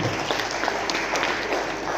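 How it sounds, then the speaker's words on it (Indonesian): A room of teachers at a training workshop applauds, giving a brief, dense wash of hand clapping that holds steady throughout. "Tepuk tangan untuk kita semua."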